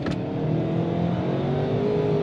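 A 2022 Ford Maverick XLT with its 2.0-liter turbocharged engine and AWD accelerates hard onto a highway, a steady loud engine drone with rising tone and road roar filling the cabin throughout.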